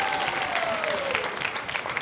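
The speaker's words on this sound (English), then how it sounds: "A round of applause to everyone." Sustained applause from an audience at a stand-up comedy special in Uganda, steady and dense throughout with a faint tone gliding beneath it.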